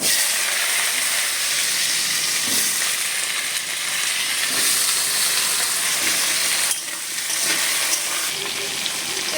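Potatoes fry loudly in hot oil with whole cumin, dry red chillies and bay leaf, giving a dense, steady sizzle close up. It briefly dips near the end, and there is no talk.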